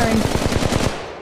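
Flatline assault rifle firing in Apex Legends Mobile, a rapid automatic burst of about eight close, punchy shots in quick rhythm, then a short tail as the fire stops.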